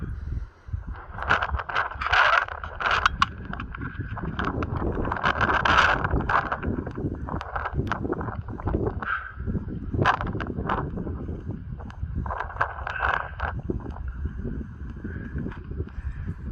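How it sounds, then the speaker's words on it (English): Wind blows outside Knowlton Church at night, a constant rough, buffeting rush with gusty swells that batter the microphone up close, and no voices. "Oh, it's the wind."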